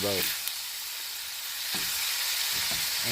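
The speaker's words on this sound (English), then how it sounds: "It was frying" Loud, constant sizzle of mixed vegetables and beef frying in a pan up close in a campervan, with brief bits of speech at the start and a couple of short voiced moments later.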